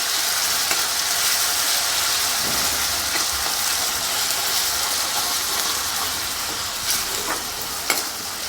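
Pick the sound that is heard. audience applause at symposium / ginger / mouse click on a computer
ginger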